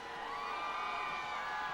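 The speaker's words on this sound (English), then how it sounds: "The fans are still cheering down here in front of us." Fans at a 2005 Illinois high school Class 4A football championship game cheer and shout continuously, a steady, distant crowd roar with whoops and children's yells rising above it.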